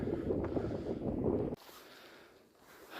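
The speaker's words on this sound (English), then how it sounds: "Pretty windy, so I don't know how much you're going to hear me." Loud wind on a farm rumbles against the microphone for a moment, then drops off abruptly to a much quieter, breezy background.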